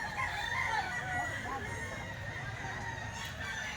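A rooster among an owner's flock of chickens crows faintly against steady background noise, with clucks and a person's voice mixed in at a distance.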